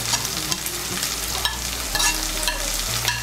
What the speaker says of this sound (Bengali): তেলের সঙ্গে মিশিয়ে নিয়ে একটু ভেজে নেব